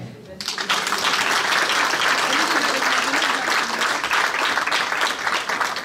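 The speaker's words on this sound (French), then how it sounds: "Maman Mireille da Silva, que je vous demande vraiment d'applaudir." A gala audience in Brussels breaks into loud, sustained applause at a charity evening, dense clapping that starts suddenly and holds steady to the end.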